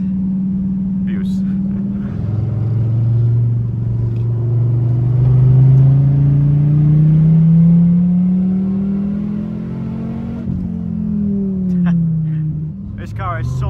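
Dodge Viper ACR sports car driving a mountain road, its engine droning loud and close with rising and falling revs through gear changes and a sharp shift near the end, while someone talks over it.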